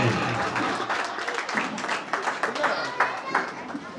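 Guests at an indoor retirement party clap together in a burst of applause, close and lively, with voices and chatter running underneath.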